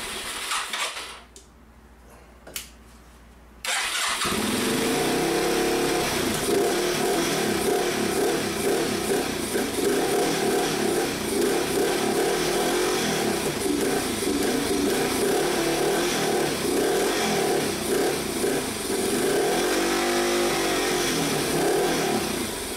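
After a few quiet seconds with a couple of clicks, the engine of a 1987 Yamaha TW200 motorcycle with carburetor issues starts and runs steadily, a close, buzzing idle that continues with little change.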